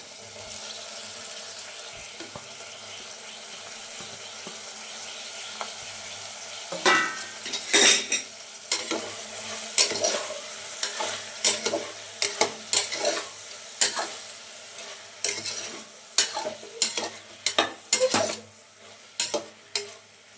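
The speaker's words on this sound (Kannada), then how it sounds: "ನೆಕ್ಸ್ಟ್ ಈಗ ಬಟಾಣಿನೂ ಹಾಕೋತಿದ್ದೀನಿ. ಇಟ್ಕೊಂಡಿದ್ದ ಪನ್ನೀರ್ನೂ ಹಾಕೋತಿದ್ದೀನಿ." Peas and paneer fry in a pan for paneer biryani, a soft sizzle at first, then repeated spoon scrapes and clatters against the pan in an uneven rhythm, close and fairly loud, no voices.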